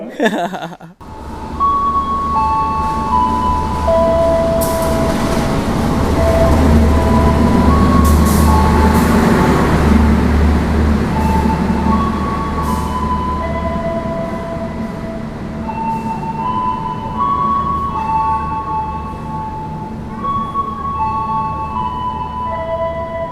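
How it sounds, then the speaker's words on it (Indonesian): A Majapahit economy passenger train rolls into Kediri station with a steady loud rumble and rail noise, sharp horn-like tones sounding repeatedly over it, heard from on board. "Kereta api Majapahit yang saya naiki ini sudah tiba di stasiun Kediri"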